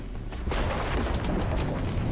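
A Super Zap Cannon attack effect in the Pokémon TCG Online video game: a dense, booming electric blast that swells after a brief lead-in and holds steady at full loudness, with no voices over it.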